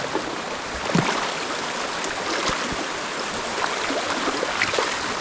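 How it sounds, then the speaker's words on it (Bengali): Stream water rushing along the Khaiyachhara waterfall trail, a dense steady wash of flowing water close by with small splashes, no talking. "মোটামুটি ভালোই পানির ফ্লো আছে, তো সাবধানে যাইতে হবে এখান থেকে"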